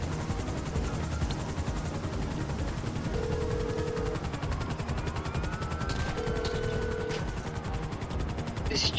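Helicopter rotor drone with bursts of gunfire from the GTA Online casino heist, a steady mechanical thrum running throughout at even loudness with scattered sharp shots layered over it.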